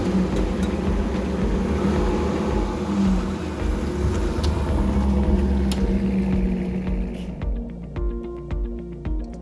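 A C5 Corvette drives along with a steady low engine rumble and road noise throughout, easing off near the end.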